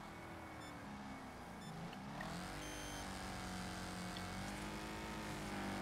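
Car engine roaring in the racing game Wreckfest, a continuous loud drone whose pitch dips and climbs as the car shifts gears and accelerates, with no voices over it.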